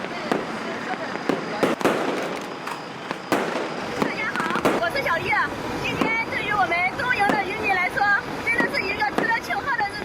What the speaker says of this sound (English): Fireworks were lit up as blessings for a new expedition.